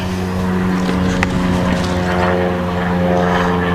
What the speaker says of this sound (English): after this airplane flies over